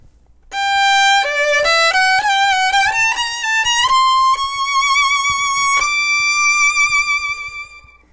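A solo bowed string instrument plays a short phrase of several stepping notes using undershapes, then holds a long sustained tone that slowly fades.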